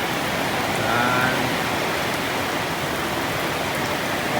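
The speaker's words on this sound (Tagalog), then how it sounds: "Ang lakas ng ulan guys." Heavy rain pours down steadily around a house at night, a dense, loud, unbroken hiss of water striking surfaces throughout.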